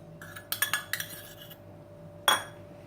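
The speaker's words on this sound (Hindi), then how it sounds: "अब इनको अच्छे से मिक्स कर लेते हैं।" A spoon clinks against a bowl while dal sandwich filling is mixed with garam masala, green chillies and coriander. Several sharp metallic taps come in a quick burst, then one louder clink follows after a short pause.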